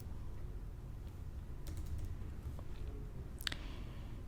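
Someone typing on a computer keyboard in a quiet room: soft, close, irregular key clicks over a low steady hum, with a sharper clack near the end.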